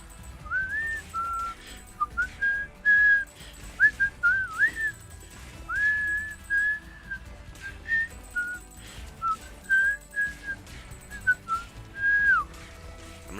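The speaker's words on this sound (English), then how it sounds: "I'm gonna stop whistling." A person whistles a wandering melody of short rising and falling phrases, close and clear, with brief gaps between notes and no talking.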